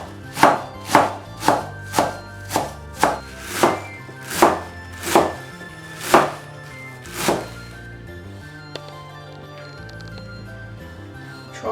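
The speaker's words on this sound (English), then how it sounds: "And now I'm going to chop this garlic chive." Knife chopping home-grown garlic chives on a board, about eleven loud, evenly spaced thuds over eight seconds, then quieter scattered sounds.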